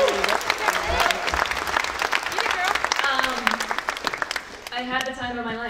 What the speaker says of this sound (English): Round of applause, Kirby.